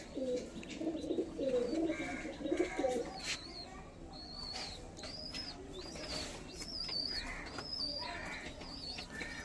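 Racing pigeons bred for tournament flying coo repeatedly at close range, soft throaty calls repeating through the clip alongside higher chirps, with faint background noise.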